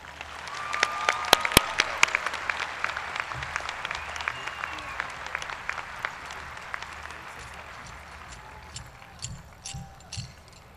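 An audience at a Clear Lake High School graduation ceremony breaks into sustained, crowd-wide applause for honored guests, loud and dense at first, then thinning toward the end with a few voices and scattered claps.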